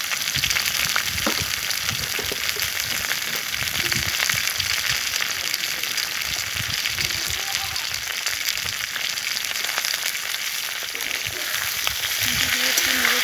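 Food fries hard in a pan after salt is added, giving a dense, loud, continuous crackling sizzle close by throughout, with faint stirring movements underneath.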